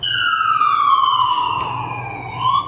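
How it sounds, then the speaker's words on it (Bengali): An ambulance siren wails in a long descending then rising sweep, loud and steady, with faint road traffic underneath and no voices. "ambulance"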